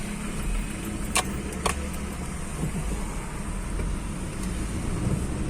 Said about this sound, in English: this is getting stuck in the traffic at Mangalore